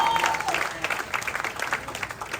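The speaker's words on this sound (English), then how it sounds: "Let's give Ms. Jameson another round of applause for that wonderful" Applause from an audience at a railroad corner groundbreaking ceremony after a singer performs. It is a short burst of scattered claps that trails off into sparse individual claps.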